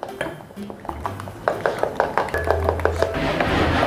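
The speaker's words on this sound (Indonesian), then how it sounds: "Lalu semua bahan kita aduk rata ya," Egg, flour, salt and pepper are whisked in a bowl, giving quick, close clinking taps of utensil against the bowl in an uneven rhythm.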